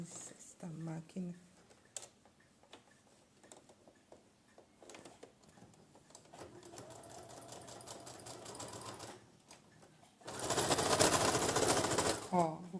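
A sewing machine stitches patchwork in short bursts: a quiet run in the middle, then a louder fast rattling burst near the end, with someone speaking Portuguese at moments between the runs.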